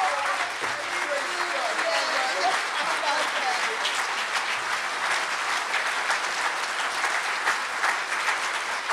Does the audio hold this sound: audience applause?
yes